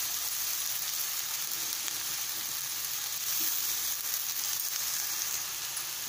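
Vegetable noodles being tossed and stir-fried in a hot pan, a steady loud sizzle running the whole time with soft scraping stirs beneath it, no voices.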